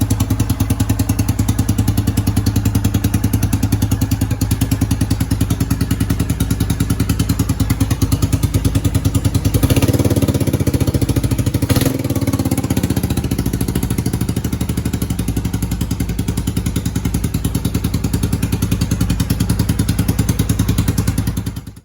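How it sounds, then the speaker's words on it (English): The motor of a project vehicle runs steadily and loudly up close, with a rough, clattering engine drone that holds constant throughout and thumps briefly near the middle. "So now we know that the motor runs fine."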